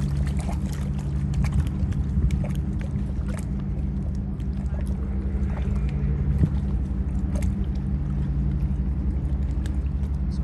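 Yacht transport ship setting with a boat reversing in: a steady, loud low engine rumble and churning water drone continuously throughout, with faint intermittent clatter above it.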